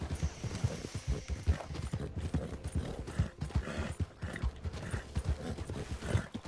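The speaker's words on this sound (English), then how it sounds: "This is the Black Arabian horse." A Black Arabian horse gallops in Red Dead Online, fast rhythmic hoofbeats pounding steadily and close throughout, with a faint whinny-like tone and no talk.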